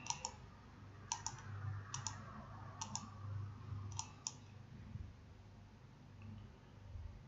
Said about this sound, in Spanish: Hago un clic en este modelo